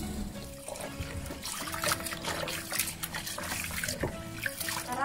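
Cut squid being washed in water for a curry, with steady splashing and trickling and occasional clinks, close and continuous without talk.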